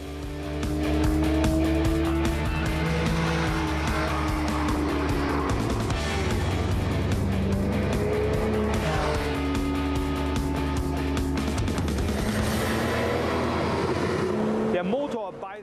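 Porsche-style GTS Targa top sports car with 430 horsepower, stability control off in Sport Plus mode, driven hard on a racetrack: a loud, continuous engine roar rising and falling through gear changes, with tire noise and a voice talking over it.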